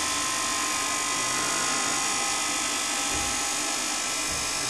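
A 10 kilowatt milk float electric motor running on two 12-volt batteries spins at high speed, a steady, piercing high-pitched whine with a dense mechanical hum underneath, continuous and close throughout.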